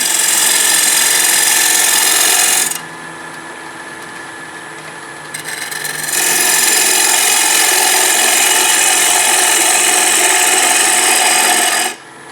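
A bevel-edged tool makes a facing cut on spinning wood, giving a loud, harsh scraping hiss that runs for seconds, drops to a quieter rumble mid-cut, then surges again before stopping.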